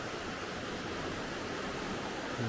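The River Derwent rushes fast and wide, a continuous broadband hiss of flowing water that stays even and unbroken, with no voices.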